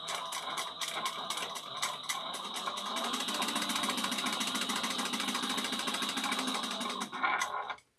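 A sewing machine back stitches and sews a tote bag seam in one continuous rapid mechanical whir, close and steady for about seven seconds, ending abruptly.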